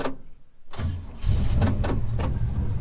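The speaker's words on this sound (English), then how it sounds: "this will be a cold start" A Holden HK car engine cold-starts: a brief cranking burst, then the engine catches and settles into a loud, rumbling idle close by.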